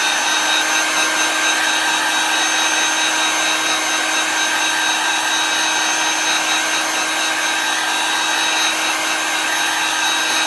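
Hair dryer blowing steadily on a chalk paste craft project, a close, loud, constant whirring rush with a faint motor hum, running alone without pause.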